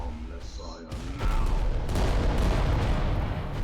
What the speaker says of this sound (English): So if we can hit him with the volcano cannon